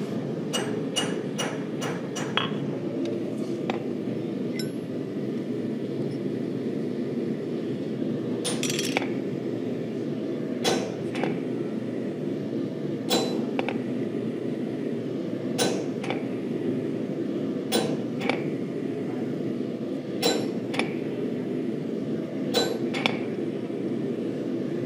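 A blacksmith drives a chisel into metal with a hammer: sharp ringing metallic strikes come in quick bursts and then spaced single blows over a low steady hum, fairly close, with no talking.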